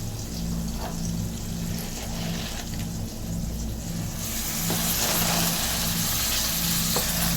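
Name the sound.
spinach stirred and frying with spices and potato in a pan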